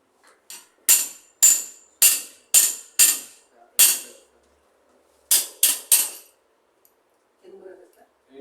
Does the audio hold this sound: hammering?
yes